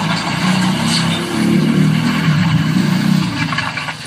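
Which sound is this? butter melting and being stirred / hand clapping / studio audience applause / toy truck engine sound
toy truck engine sound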